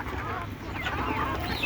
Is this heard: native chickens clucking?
yes